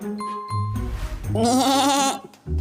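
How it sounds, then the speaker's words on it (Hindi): A cartoon goat lets out a loud, wavering bleat after being slapped, preceded by short thuds and rustling, in a Hindi/Urdu animated moral story. "भोलू बकरी के करीब गया और उसने उसके मुंह पर जोर से थप्पड़ मारा।"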